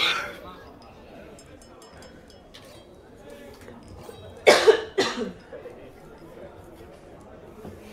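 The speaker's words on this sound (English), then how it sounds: "I'm gonna be coughing a lot, by the way, guys." A person coughs several times in a short burst near the middle, loud and close, over quiet background chatter from people in a room.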